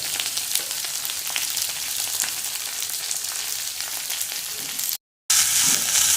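Chopped onion and broad beans (avarakkai) sizzle and fry in a pan, a continuous crackling hiss with occasional stirring scrapes, briefly cut off near the end before resuming.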